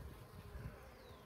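Worker honey bees buzz steadily during a hive inspection, a dense low drone that holds close and even throughout the short stretch, with no voices.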